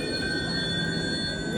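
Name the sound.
train arriving at a station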